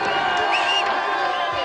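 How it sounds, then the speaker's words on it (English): A studio audience at a 1993 video-game TV show cheers and whoops, a dense, loud sustained crowd roar with scattered high shouts. "Let's have a big cheer for Robert."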